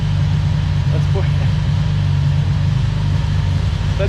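Old VW Beetle engine idling while it warms up: a steady, near, low-pitched engine rumble with an even throb and no change in speed.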